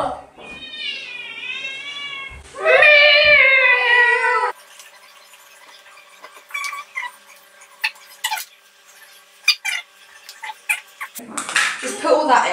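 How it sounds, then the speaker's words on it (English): A cat meows loudly twice in drawn-out wavering cries, followed by quieter clinks and rustles, then a short burst of noise. "You keep meowing."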